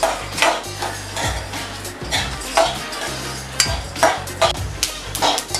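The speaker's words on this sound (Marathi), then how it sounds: "हे आपण पूर्ण या तेलामध्ये घालायचं आणि हे चांगलं खरपूस गोल्डन होईपर्यंत छानपैकी भाजून घ्यायचं" Whole garam masala spices roast in oil in a pan, stirred with rhythmic, fairly loud metallic scrapes and knocks against a low frying sizzle, repeating about once a second.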